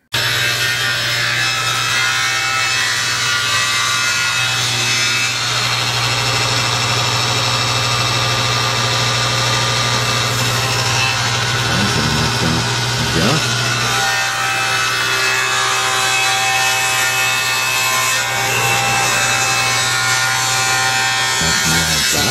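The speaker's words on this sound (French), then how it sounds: "je donne le coup de scie." Power saw ripping wooden planks for a dismountable cradle, a steady loud buzzing drone running continuously with slight variations as the blade bites, no voices.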